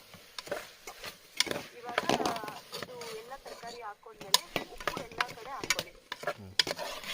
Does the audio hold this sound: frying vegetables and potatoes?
yes